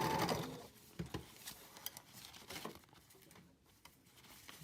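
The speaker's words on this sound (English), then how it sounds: "I'm not going to sew right to the edge" A sewing machine stitches fabric for a travel packing cube, the seam stopping short of the edge; a soft, quiet mechanical patter with a few brief bursts and crinkles, heard alone.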